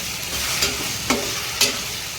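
Ingredients for a Tamil-style fish curry sizzle steadily in a pan, with three quick scraping stirs spaced about half a second apart over the constant hiss, no voices.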